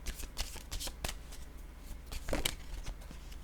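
Oracle cards shuffled by hand for a reading, a quick run of soft papery riffs and flicks with short bursts of card snaps, close and fairly quiet, with no talking.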